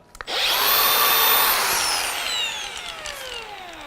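A power drill with a 12 mm bit bores into a mushroom log, giving a loud, high whine that spins up quickly, holds, and then slowly winds down as the bit eases off.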